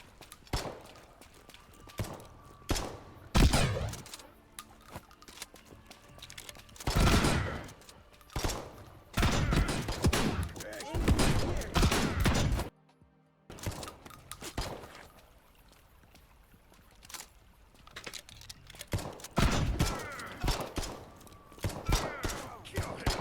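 Gunfire and melee combat from the PC game Potentia: loud bursts of shots and impacts arrive in irregular clusters, broken by a brief silent gap midway.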